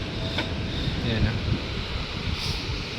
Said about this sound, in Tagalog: Tapos yan, mahangin, sobrang lakas ng hangin guys.